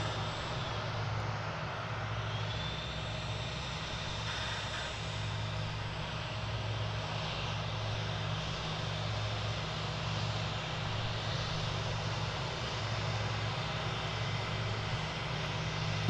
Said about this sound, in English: From Peoria, Illinois, comes this American Eagle Embraer 175.